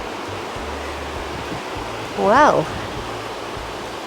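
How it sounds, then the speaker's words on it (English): Steady broadband rushing of a flowing river fills the scene throughout, with a brief spoken word from a nearby voice partway through. "I'm heading in the direction that I can hear the water."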